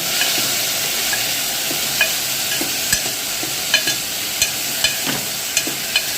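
A spoon works grated papaya sambharo with gram flour and turmeric around a hot pan, a steady sizzle under scattered scraping clicks that pick up toward the end.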